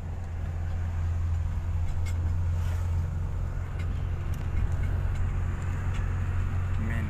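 A car is being driven, its engine and road noise a constant loud low rumble with wind buffeting throughout, the cabin otherwise fairly uniform and steady.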